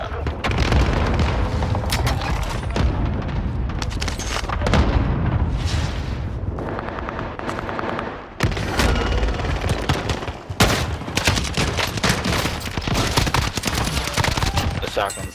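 Dense, loud bursts of gunfire from a shotgun in Call of Duty on Rebirth Island, booming shots and impacts crowding the clip with only a brief lull near the middle.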